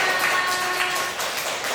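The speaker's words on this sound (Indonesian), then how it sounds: "tepuk tangan untuk kita semua" A class of schoolchildren claps together during a lesson, a dense, even patter of hands sustained at moderate loudness across the short span.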